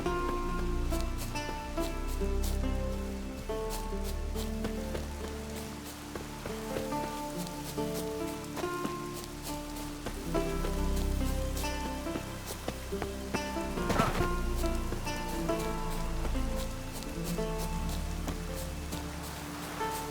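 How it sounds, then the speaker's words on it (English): Rain falls in The Witcher 3, a soft continuous hiss of drops spattering on surfaces under a layered, low ambient game soundscape, steady throughout. "Rain's back again."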